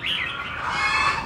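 A caged songbird gives a brief, bright run of high chirps and trills, close and clear, with no talking over it.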